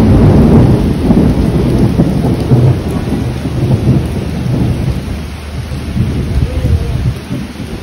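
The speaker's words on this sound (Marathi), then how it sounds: "आणि इथे येऊन असा पाऊस पडतोय मागे" Heavy rain falls at Akkalkot as low thunder rumbles, loudest at the start and then rolling on beneath a steady downpour.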